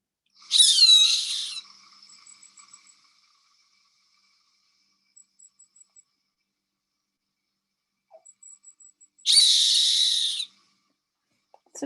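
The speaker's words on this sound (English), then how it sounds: "It's a typical hawk whistle." Gray hawk giving its far-carrying whistle in Mexico's Yucatan Peninsula, two loud clear whistled calls several seconds apart with faint short notes between them, outdoors and otherwise quiet.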